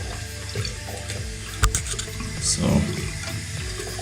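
Water runs and splashes from an overflowing toilet tank inlet valve that won't shut off, a close, uneven trickling and gurgling with a few sharp clanks, and a brief spoken word.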